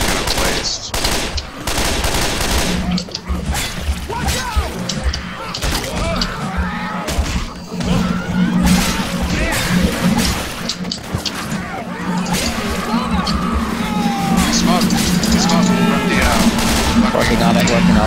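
Rapid automatic gunfire and weapon bursts from the Left 4 Dead 2 video game run almost continuously at close range, mixed with crashes and thuds, while players talk over it.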